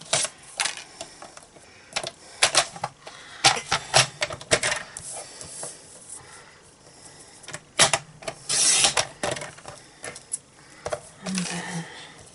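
A paper trimmer slices through a stamped card piece during Christmas card making, giving a series of short, sharp clicks and sliding scrapes, close and fairly quiet, spread out in irregular bursts.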